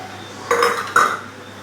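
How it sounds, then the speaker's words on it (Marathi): Paneer goes into a pan of gravy with two short metallic clanks of a spoon against the pan, close by, and then a quiet pause. "आता आपण ह्याच्यामध्ये पनीर टाकून घेऊया"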